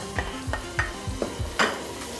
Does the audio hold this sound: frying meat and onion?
yes